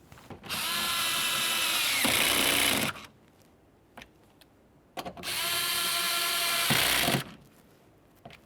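A power tool snugs up 7mm door speaker mounting bolts on a 2002-2009 Chevrolet Trailblazer door, whirring loudly in two close bursts of about two and a half seconds each, with brief clicks and handling knocks between.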